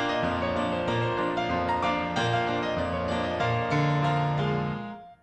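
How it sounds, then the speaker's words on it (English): Ragtime chord progression on piano with the sustain pedal held down, the struck chords ringing into one another so the notes blur into a continuous, smeared wash that fades at the end. "But when I use the pedal, they sound like this."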